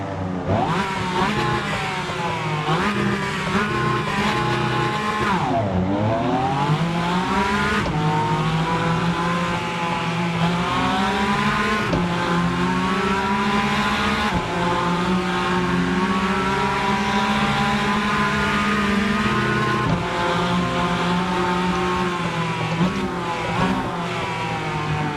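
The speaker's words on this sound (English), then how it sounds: "This Cayman, unbelievably good. Sounds a bit cacky, but it handles and feels good." Porsche Cayman touring car in Rennsport racing, engine droning loud and continuous, revs climbing and dropping through gear changes, with one deep dip and recovery and no talk over it.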